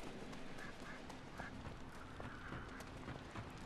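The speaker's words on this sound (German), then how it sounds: "ein Huhn, eine Ente kann hier noch laufen" A duck quacks in the Risen 3 video game: a few short, faint quacks scattered over a quiet, hissy in-game ambience.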